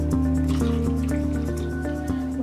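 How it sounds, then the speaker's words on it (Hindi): Milk poured into boiling spiced masala chai in a pot, a steady close liquid pour with bubbling, dripping splashes and a constant background hum, no talking. "अब हम इसमें डालेंगे दूध।"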